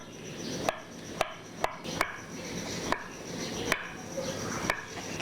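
A knife chops through tempeh on a cutting board in a home kitchen, giving sharp, evenly spaced thuds about every half second, close and clear over quiet room noise.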